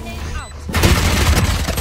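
A grenade bursts in Valorant, a loud close blast that spreads into a broad rumbling roar, following a brief electronic ability tone.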